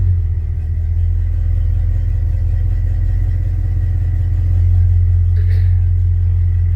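A Chevy 350 V8 in a 1966 C10 pickup idles loudly and steadily through very little exhaust, a deep continuous rumble heard up close with no talk over it.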